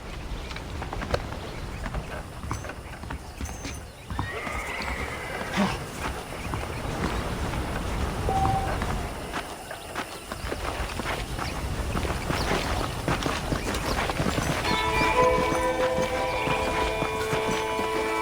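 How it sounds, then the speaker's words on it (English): Horse hooves clip-clopping at a walking pace in the Western game Red Dead Redemption, steady soft footfalls under game music and ambience; no clear neigh stands out. "let's see if you can still ride a horse."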